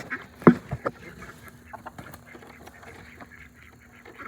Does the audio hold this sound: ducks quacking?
yes